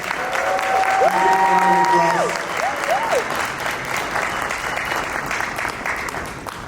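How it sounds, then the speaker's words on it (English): An audience at a 2021 startup pitch competition applauds the finalists as they return to the stage. The loud, steady clapping swells early, then gradually tapers, with a few voices heard over it. "Let's do a round of applause."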